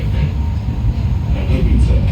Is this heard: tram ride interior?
yes